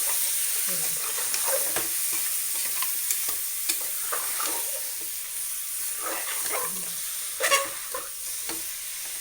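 Village mutton frying in oil with turmeric, a continuous close sizzle with scraping stirs and occasional clinks of a spoon against the pan.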